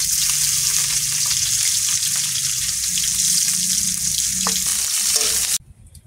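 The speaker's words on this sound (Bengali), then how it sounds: "মাছগুলো ভাজা হয়ে গেছে, নামিয়ে নিলাম" Fish fry in hot oil in a home kitchen, giving a loud, steady sizzle broken by a few light utensil knocks. The sound cuts off abruptly near the end.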